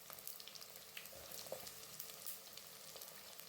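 Cut onions and garlic frying in oil in a pan for a Tamil-style dried fish curry, a faint continuous sizzle with small crackles and occasional stirring, no voices.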